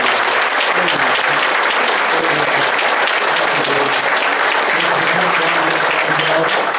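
Audience applause fills a room at a Goldendale candidates forum, a steady, dense wash of many hands clapping for both candidates, loud and continuous throughout.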